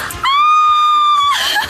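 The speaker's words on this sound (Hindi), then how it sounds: "तुम चीख क्यों रही हो?" A woman screams in a sustained, piercing high-pitched cry lasting about a second, loud and close, with brief rustling noise before and after.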